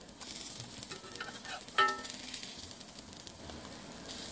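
Chickpea patties sizzle quietly in a pan, a soft continuous crackle with a brief louder clatter near the middle, as if from a utensil.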